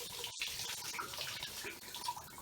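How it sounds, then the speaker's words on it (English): Tap water runs steadily as a small spray can adapter is rinsed during a dashboard rebuild, a close, continuous splashing hiss. "I'm going to just rinse it off a little bit."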